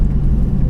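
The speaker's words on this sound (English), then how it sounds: "it's tough to speak when you're driving this thing" Tuned 674-horsepower Dinan Carbahn Autoworks Mercedes-AMG C63 S on the move, a steady deep low engine rumble heard from inside the car, continuous and loud with no voices.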